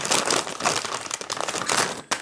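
Crinkly plastic packaging of a GT 1030 graphics card being opened with scissors: a close, continuous rustle and crackle of wrapping, with a sharper snap near the end.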